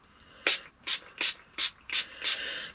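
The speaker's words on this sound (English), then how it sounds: "I'm spraying plenty of it." PITS & BITS detangling hair spray pumped from a bottle in six quick hissing bursts, evenly spaced and close, with short quiet gaps between them.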